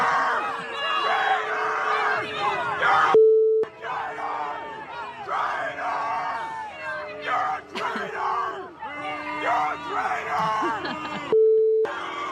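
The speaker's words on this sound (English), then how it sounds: "adding fake cheers over the sound of the booing at the Super Bowl" A large stadium crowd at the Super Bowl roars with mixed booing and cheering, sustained and loud, with brief cuts between swells; the cheers are added over the booing.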